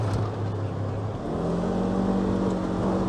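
A 2017 Polaris RZR 1000 on a dirt trail runs under light throttle, its engine a steady, close drone that shifts pitch partway through and carries on to the end without talk.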